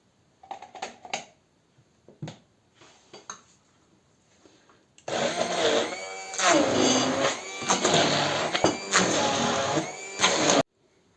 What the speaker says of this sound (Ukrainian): тепер будемо все збивати знову блендером